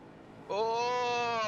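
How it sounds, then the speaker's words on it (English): A V8 race car's tyres scream around the last corner at Belle Isle in an East Coast V8s race, a sustained, loud, tonal squeal that starts abruptly and holds steady. "And hear the tyres screaming coming around the last corner."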